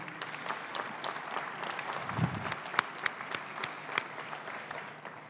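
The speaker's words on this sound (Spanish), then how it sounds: "un aplauso para todos ustedes que son pymes" Sustained audience applause fills a hall at a small and medium business congress at La Rural, a steady dense clatter of many hands with a few sharper claps standing out, heard on its own without talk.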